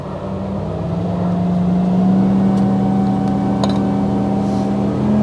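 A 2022 Sea Ray Sundancer 265 motorboat with a stern drive powers up to plane, its engine drone loud and close, the pitch climbing steadily to around 4,000 RPM over steady water and wind noise.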